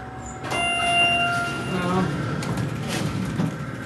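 A Schindler elevator's sliding door rolls shut in a parking garage of a Pennsylvania mall, a loud close rumble and scraping with a faint chime at the start, followed by lighter rattles as it settles.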